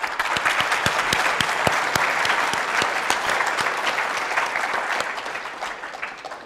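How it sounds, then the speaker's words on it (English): Steady applause from a crowd, dense clapping that holds strong for several seconds before starting to thin out toward the end. "Let's give a round of applause."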